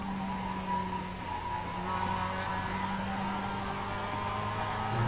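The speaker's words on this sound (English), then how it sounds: "Had to get on the brakes because I overdid that one." Mazda MX-5 braking hard on a chicane in the racing game iRacing, engine note dropping under a steady drone of tire and road noise, fairly loud and continuous with no talk.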